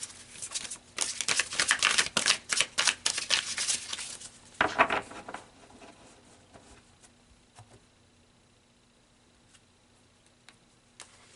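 Tarot cards being shuffled and pulled, a quick run of crisp riffling snaps and taps for about five seconds, then sparse faint card clicks in a quiet room.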